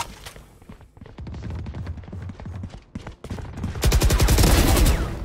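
Rapid bursts of gunfire in a shooter video game, dense automatic rattles growing louder and more continuous toward the end, close and dominant over game background sounds.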